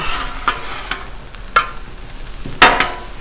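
Sloppy joe ground meat sizzling on a Blackstone flat-top griddle while a spatula scrapes and stirs it, with several sharp metal scrapes over a steady close fry hiss.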